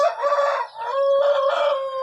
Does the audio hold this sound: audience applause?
no